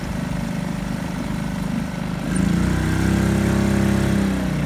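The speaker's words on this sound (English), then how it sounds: "The engine is idling" A car engine runs at idle during a drive between Erlangen and Nuremberg, a steady low droning hum that grows slightly louder and fuller about halfway through, with no voices.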